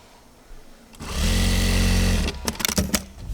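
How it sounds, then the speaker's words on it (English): A flatlock sewing machine stitching garment seams for reversible sweatpants starts up and runs in one loud, fast, whirring burst of just over a second, then stops with a few clacks. "To operate a flat lock machine even, which is what a lot of our seams are"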